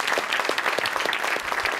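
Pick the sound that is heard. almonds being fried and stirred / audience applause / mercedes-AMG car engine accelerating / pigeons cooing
audience applause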